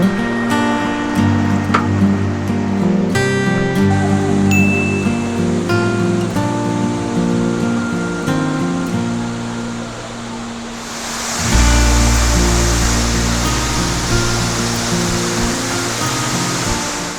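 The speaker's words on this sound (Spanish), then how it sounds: "Y aquí está la majestuosa cascada del Sorrosal" Sorrosal waterfall in Broto, Huesca, plunging over 100 metres, heard as a steady broadband roar with music playing over it for most of the stretch before the rushing water swells louder and fuller near the end.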